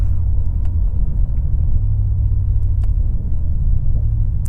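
A 2024 BMW M8 Gran Coupe's exhaust burbling, heard as a steady low rumble with faint crackles, continuous and fairly close, no speech.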